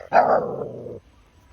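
A dog in a farm field lets out a single loud, close bark that slides into a short growl and lasts about a second before cutting off.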